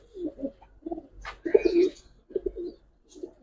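Pigeons, an old-breed red-barred type, cooing in a loft, several low throaty coos in a rhythmic sequence close to the microphone, along with a brief flutter or call in the middle.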